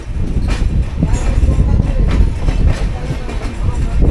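The 12858 Digha–Howrah Tamralipta Express rumbles along the rails near Howrah, giving a loud, continuous low roar with rhythmic clatter from the wheels and faint voices underneath.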